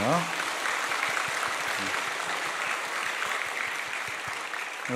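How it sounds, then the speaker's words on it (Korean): Steady congregational applause fills a church sanctuary during a Sunday service marking the church's 121st anniversary, a dense continuous clapping that holds for the whole stretch with a slight fade near the end. "우리 주님께 영광의 박수를 올려드리겠습니다"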